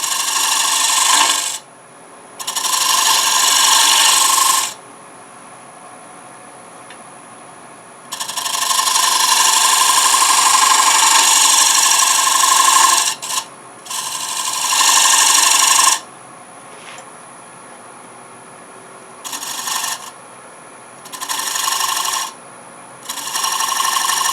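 Woodturning detail tool cutting into wood on a lathe, heard as repeated bursts of rough scraping and shaving, each lasting a few seconds, with short quieter gaps between cuts.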